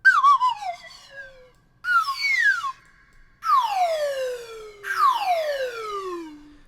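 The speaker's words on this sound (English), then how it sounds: "So this is all the slide whistle sounds going down." Four slide whistle samples glide downward in turn, each a bright pitched sweep falling from high to low, separated by short silences, clean and alone with no talking.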